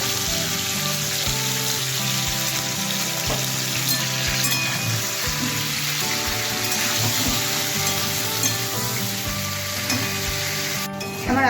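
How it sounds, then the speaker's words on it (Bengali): Potatoes fry with a little salt in hot oil, producing a continuous, dense, close sizzle with faint intermittent scraping and crackle, heard alone throughout. "সামান্য নুন দিয়ে আমি আলুটাকে একটু ভেজে নেব।"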